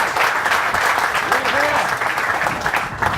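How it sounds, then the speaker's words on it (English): An audience at a golf tournament gathering applauds faculty, a dense, sustained clatter of many hands that holds steady for a few seconds with some voices mixed in. "So give them a round of applause."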